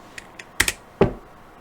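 Several crisp keystrokes on a computer keyboard as a command is typed into a terminal, a few light taps followed by sharper, louder presses, close and alone in a quiet room.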